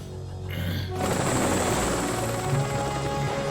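Helicopter in a Ben 10 cartoon episode, a loud continuous rotor and engine roar with rapid chopping that fills the soundtrack after a quieter opening second.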